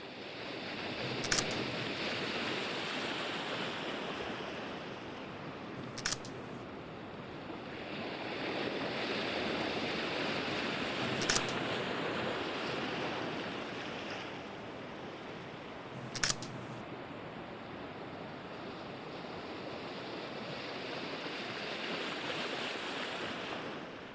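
Waves wash on a winter beach at Point Beach on Lake Michigan, a soft steady surf hiss that swells and eases, with a few brief sharp clicks from handling.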